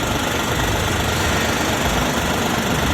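A Maruti Wagon R LXI running on CNG is heard from close beside the radiator, its engine giving a loud, steady, dense hum without a break.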